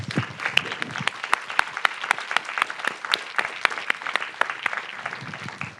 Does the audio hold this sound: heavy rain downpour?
no